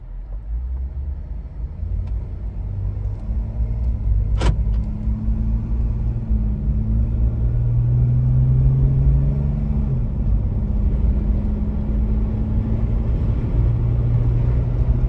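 2016 Jeep Wrangler Unlimited Sport during a test drive: a steady, low interior engine rumble with shifting tones as it accelerates, plus one sharp brief click near the middle.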